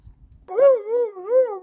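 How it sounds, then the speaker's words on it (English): A dog lets out a single drawn-out whining yelp, close and fairly loud, after a few faint low sounds. No one talks. "This is a dog for my sister. Yeah, it's a dog."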